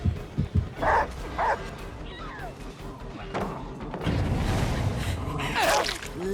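A poodle skin's barking in a video game replaces the Cane Corso: several sharp nearby barks and yips over game noise, with a crash and gasp-like sounds around them.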